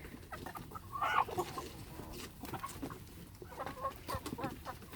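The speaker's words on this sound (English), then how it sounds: "There's everybody running from the chicken coop." Chickens clucking near a farm coop, a lively flock of overlapping clucks and squawks at moderate distance, steady throughout with no talking.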